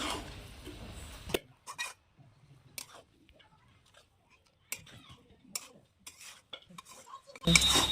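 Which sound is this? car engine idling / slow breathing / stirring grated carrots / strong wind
stirring grated carrots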